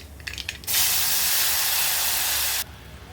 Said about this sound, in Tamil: ஒரு லெமன் சைஸ் அளவு புளி எடுத்து கரைச்சி வச்சுருக்கிறேங்க, அதை இதில் சேர்த்துக்கிறேன்.